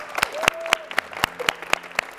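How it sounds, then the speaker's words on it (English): A lone pair of hands claps a slow, steady round of about eight crisp claps at an even beat, close and fairly loud, offered to ballet dancers during a World Ballet Day broadcast. "I just would like to dedicate you from far distance a little applause."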